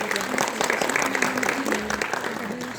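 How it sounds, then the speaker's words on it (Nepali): An audience at a film premiere event at a mall claps in a sustained round of applause. A voice talks over the clapping the whole time. "बेजोड तालीले आभार प्रकट गरौँ प्लिज"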